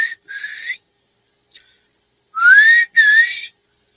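Clear whistled bird call: two short notes, a pause, then two longer rising whistles, sharp and close in quiet surroundings.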